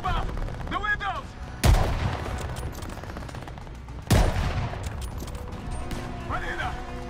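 Gunfire from above in the Call of Duty: Vanguard campaign: two sharp, loud shots a few seconds apart, each ringing out over a battle din, with voices calling out in between.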